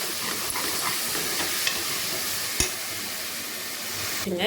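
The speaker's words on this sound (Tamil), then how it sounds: "இப்போ தக்காளி போட்டு நல்லா வணக்கலாம்" Tomatoes sauté with onion, ginger and garlic for mutton biryani, giving a continuous close hiss of frying with a few light clicks of a utensil stirring the pan.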